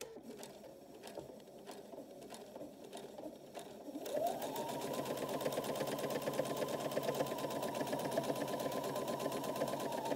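A sewing machine stitches the back seam of a fabric scrub-style cap up to the elastic, starting after about four seconds of quiet room tone and then running in a steady, fast, continuous mechanical whir up close.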